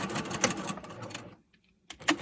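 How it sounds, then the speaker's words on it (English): A sewing machine back-stitching a fabric face mask seam runs in a quick, close burst of rapid stitching, stops briefly into near silence, then starts again for a short final run. "At the end, I'm going to back stitch again,"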